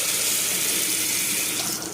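Hot tap water pours steadily into a bathroom sink fitted with a drain strainer, a continuous close hiss of running water with no talk over it.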